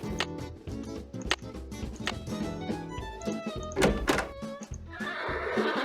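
A horse whinnies in the Secret of Shadow Ranch game among clattering thunks and knocks, with busy percussive game sounds and a rising neigh near the end.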